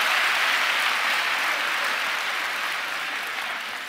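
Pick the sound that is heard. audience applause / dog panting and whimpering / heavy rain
audience applause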